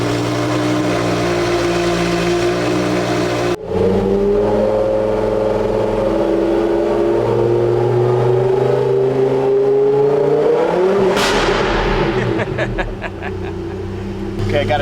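A Lamborghini Huracan with a 5.2 V10 and an FMU exhaust idles loudly after a cold start, then its steady drone climbs into a rising rev and falls off with crackling on lift-off, close and heavy.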